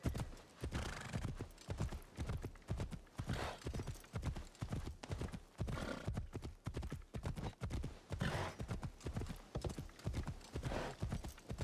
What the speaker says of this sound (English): If I'm riding a horse,